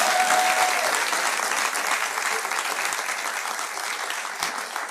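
A talk show studio audience claps in a steady, dense wash of applause that holds at an even level throughout, with a faint tone near the start.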